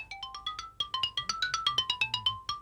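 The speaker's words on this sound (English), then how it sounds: "This is the xylophone." Mallets strike the stiff wooden bars of a xylophone with no resonating pipes in a quick run of bright, short notes, each ringing briefly and evenly spaced, close and clear with nothing else heard.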